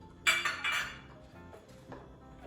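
A spoon stirs a lemon-juice mixture in a bowl, a brief cluster of bright clinks and scraping up front, then a few faint knocks in a quiet room.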